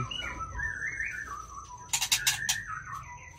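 Eight-day-old white-rumped shama chicks give thin, rising chirping calls, followed by a short burst of rapid high cheeps, close by with no talking.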